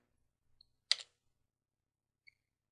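A single Enter key press on a computer keyboard during Linux command-line work: one sharp, close click with a soft trailing rattle, preceded and followed by a couple of faint tiny ticks in otherwise quiet surroundings.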